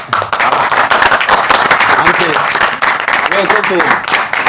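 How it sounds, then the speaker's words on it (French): Lively crowd applause for a guest in a club setting, with loud close clapping and people speaking and calling out over it. "Applaudissez pour Wesola"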